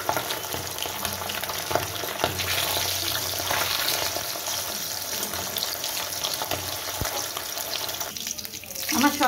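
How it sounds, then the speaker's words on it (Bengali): Pabda fish frying in oil, a loud dense sputtering sizzle that runs steadily close by, with scattered pops and a brief clatter near the end. "আমি সবকটা মাছই ভেজে নিচ্ছি।"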